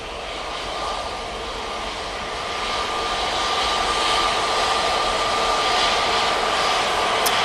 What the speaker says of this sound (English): And the Ryanair in the special livery there, now departing.